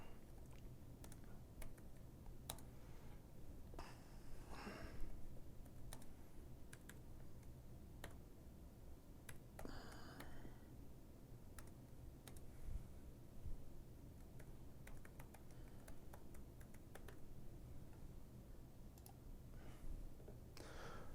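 Someone types code on a computer keyboard, producing very faint, irregular key clicks scattered through a long quiet stretch, with a few short bursts of faster typing.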